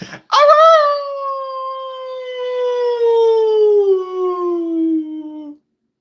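A person imitates a wolf or dog howl during a nighttime stream: one long, loud, sustained wail that slides slowly downward in pitch for about five seconds, then stops, with no talking.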